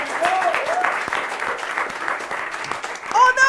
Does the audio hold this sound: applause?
yes